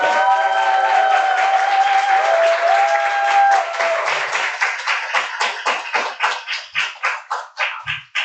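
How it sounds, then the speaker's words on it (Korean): Loud audience applause with cheers and whistles as a guest speaker is welcomed to a lecture, a full roar at first that thins into a few slower, separate claps by the end. "박수 부탁드립니다."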